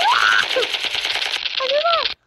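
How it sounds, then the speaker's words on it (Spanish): Rapid bursts of automatic gunfire from a mobile video game, dense and loud throughout, with electronic whooshing game effects layered over the shots before cutting off abruptly. "¿cómo le hago para disparar?"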